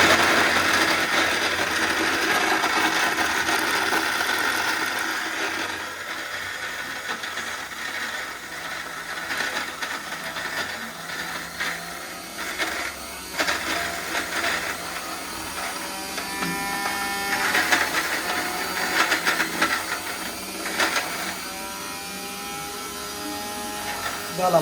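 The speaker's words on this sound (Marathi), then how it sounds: "परफेक्ट 1 मिनिटामध्ये मसाला बारीक झाला आहे" A mixer grinder grinds masala spices for a fish dish in a home kitchen, a steady, loud motor whir with a rattling edge that runs continuously for the whole stretch, with faint voices at times.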